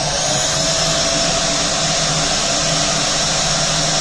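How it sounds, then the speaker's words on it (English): A vacuum cleaner with micro attachments runs over a laptop CPU fan, giving a loud, steady, close whine and rush that stays unbroken throughout. "I'm gonna clean this entire CPU fan with micro attachments for the vacuum"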